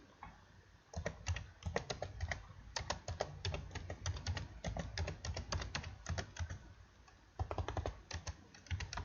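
C++ code being typed on a computer keyboard produces quick, uneven clusters of close key clicks, separated by short pauses, with no voice over them.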